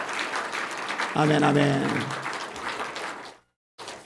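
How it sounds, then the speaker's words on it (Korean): A church congregation at a Sunday afternoon service claps in thanks, a short burst of applause at the start, followed by voices calling out together and a brief silence before sound resumes. "우리 주님께 감사의 박수 한번 합시다."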